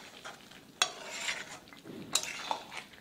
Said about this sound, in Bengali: নাড়াচাড়া করে মিশিয়ে দিচ্ছি।